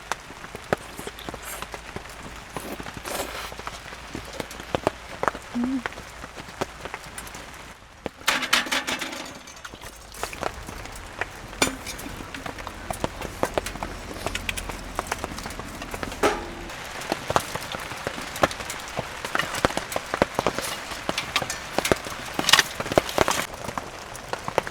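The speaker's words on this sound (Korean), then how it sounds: "비 진짜 많이 온다" Heavy rain drums on a shelter on a cold night, a dense, steady patter of close drops with sharper taps scattered through, continuing without pause and with no voices.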